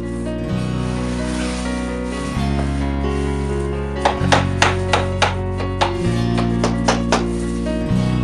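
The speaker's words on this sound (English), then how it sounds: "the mallet and gently tap the outside of the bars, allowing all 4 joints to come together tightly" A mallet gently taps wooden stretcher bars to close their four corner joints, giving a run of sharp, evenly spaced knocks over steady background music.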